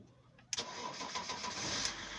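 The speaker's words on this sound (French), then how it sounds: "je vais démarrer la voiture" A BMW 330d E46 diesel engine starting after a fuel filter change: a quiet moment, then a sudden crank and catch that settles into a steady close idle.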